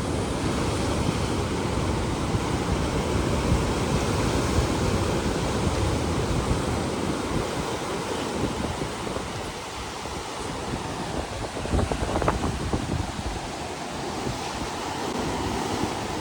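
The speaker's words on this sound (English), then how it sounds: "Watch the waves." Ocean surf crashes steadily against rocky seaside cliffs with pinkish rocks, a continuous loud roar of breaking waves mixed with wind buffeting the microphone, no voices.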